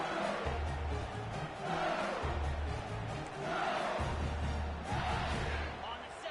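Football stadium crowd in a video game yelling and roaring in swelling waves, with low rhythmic chanting pulses underneath, loud and continuous with an announcer-style voice talking over it.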